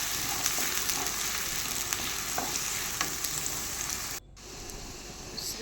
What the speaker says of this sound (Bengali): পেঁয়াজ কুচি দিয়ে দিলাম তেলের মধ্যে, দিয়ে ভালো করে এটা ভেজে নেবো পেঁয়াজগুলো তেলে